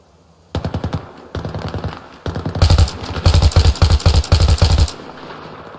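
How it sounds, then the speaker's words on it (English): Automatic weapon fire in the video game Battlefield 3, running on the Venice Unleashed mod: loud rapid bursts of gunshots in several clusters, growing denser and heavier toward the end, with no talk over them. "The heck was he shooting at?"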